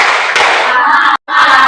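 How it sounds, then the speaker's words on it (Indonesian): A classroom group does a quick unison clap cheer, dense bursts of hand clapping filling most of the moment, breaking off into a brief silence before another round starts up. "1 kali tepuk semangat."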